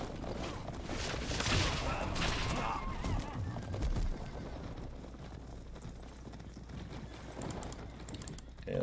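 Tower and fortress fire in a real-time strategy video game comes as a burst of sharp, rapid impacts and clatter, strongest early, then thinner scattered hits over a continuous low hum, with no speech.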